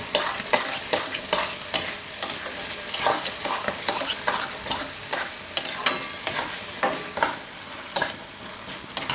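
Cream is stirred into a peas and tomato curry in a pan on the stove, making close, rhythmic scraping and stirring strokes with a soft sizzle underneath, with no voices.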